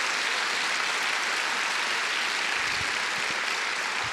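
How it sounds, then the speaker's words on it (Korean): Congregation applause fills a church at a Korean world mission conference service, a steady broadband wash of clapping held evenly throughout without talk. "감사의 박수 드리겠습니다."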